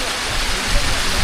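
Monsoon rain pours on a trek near Tung fort, a brief, loud, even wash of noise.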